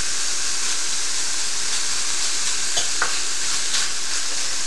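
Chorizo and garlic sizzle in a hot pan, a loud continuous close-up hiss with a few faint stirring ticks.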